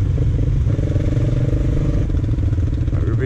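Motorcycle ridden along a green lane on a Christmas ride, its engine droning steadily and loud throughout with a rough, pulsing note and some clatter, close to the rider.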